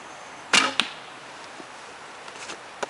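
PSE Kingfisher 50-pound bow with no string silencers shooting an arrow: a single sharp, loud twang and thwack at close range, followed by a brief quieter rattle, then faint background.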